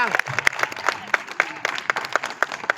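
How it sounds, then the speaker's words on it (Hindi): An audience at a Hindi poetry recitation about the horse Chetak claps in a loud, steady, rhythmic beat, many hands striking together in near-unison pulses close by with the crowd's noise underneath. "एक बार ताली और दोनों हाथ"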